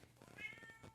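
An upset cat lets out a single short, faint meow, slightly drawn out and plaintive, heard alone indoors.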